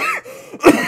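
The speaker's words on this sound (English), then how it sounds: "Macintosh began coughing again." A stallion character named Macintosh coughs, a couple of rough close coughs within a second, loud and alone, sounding like a voice performing the cough.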